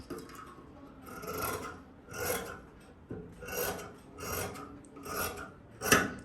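Scissors cut fabric for a top in a series of about six soft, rhythmic rasping snips, quiet and close, with no talking.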